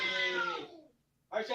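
An angry cat meows in a hallway, threatening to attack. One long, drawn-out, whining yowl fades out, and after a short silence a second cry begins abruptly. Both are fairly close.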